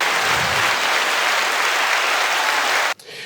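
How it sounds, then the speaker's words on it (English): Loud, dense applause from a podcast audience fills the space steadily for about three seconds, then cuts off abruptly, leaving only a faint remaining patter. "Round of applause."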